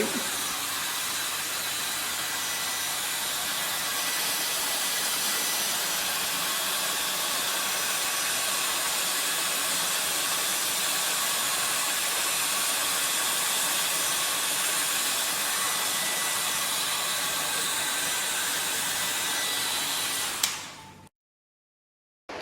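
A steady, loud blowing hiss dries a freshly washed austenitic stainless steel lab specimen, running unbroken for about twenty seconds before cutting off abruptly.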